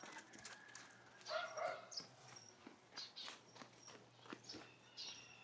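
Several dogs, forest dogs among them, yip and whimper at a distance, giving short, faint, scattered barks over a quiet outdoor background with a low steady hum.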